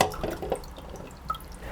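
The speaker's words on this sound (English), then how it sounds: "some water over the ackee and on the ackee. Rinse it like this." Water poured over tinned ackee to rinse it, a short run of soft, close splashes and drips in the first half, then a few quieter trickling drops.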